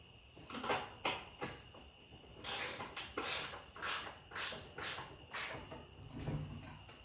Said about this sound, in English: So I'm gonna go ahead and snug these down. I'm gonna use my free Harbor Freight wrench.